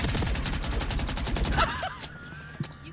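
Rapid automatic gunfire in Valorant rattles loudly for about a second and a half, then breaks off into a few scattered single shots and faint game effects.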